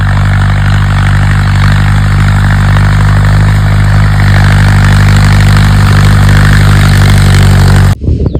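A tractor engine running in a cotton field, a loud, steady idling rumble close by that holds for about eight seconds before cutting off abruptly.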